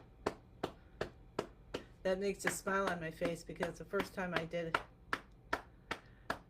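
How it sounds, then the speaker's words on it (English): Hand clapping against the inside of the left elbow during a self-massage, a steady series of soft, close slaps at an even rhythm, continuing under a person talking in the middle. "Clapping inside left elbow."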